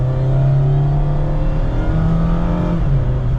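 A 2024 Mazda MX-5 Miata RF Grand Touring, a small short-wheelbase roadster, drives hard through mountain turns. Its engine drones loud and steady from inside the car, the pitch rising, dipping briefly, then climbing again.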